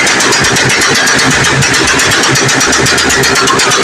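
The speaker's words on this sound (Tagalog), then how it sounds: "kay Boss J Valencia, yung R150 FI na yan, at napakalas po niyan. Ito po, marinig nyo po yung bomba beat nya." A Suzuki Raider R150 FI motorcycle at a motor show pulses with a loud, rapid exhaust beat, a close and continuous burbling drone with fast regular firing pulses and no speech over it.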